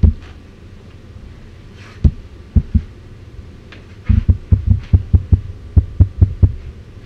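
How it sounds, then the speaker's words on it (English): Whales in a bay make muffled underwater pops and low thumps, some isolated and then a quickening rhythmic series, over a steady hum and hiss. "What you're hearing are the whales in the bay."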